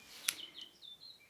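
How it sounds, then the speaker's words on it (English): A few faint birds chirp outdoors, one sharp chirp followed by thin high twittering calls, distant and quiet against a soft background hush. "can you hear the birds chirping? It sounds so beautiful in the background here."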